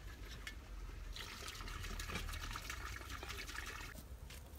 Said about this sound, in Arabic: وغادي ندير الماء